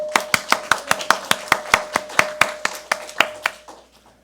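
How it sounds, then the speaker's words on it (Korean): A church congregation at a Sunday service claps in unison for the choir, sharp rhythmic claps at a brisk steady beat, loud and close, slowing and fading out at the end. "찬양대를 위해서 격려의 박수, 힘차게, 더 힘차게."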